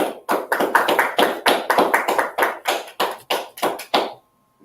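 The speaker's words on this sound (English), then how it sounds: "We're gonna clap it up." Audience clapping hands in sharp, distinct claps, roughly rhythmic and close, about a dozen strokes before falling silent.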